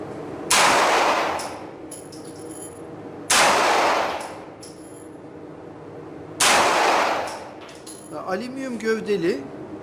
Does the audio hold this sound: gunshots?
yes